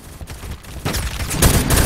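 A rapid burst of gunfire sounds in a shooter video game, loud and close. The shots quickly build into a dense, crackling barrage.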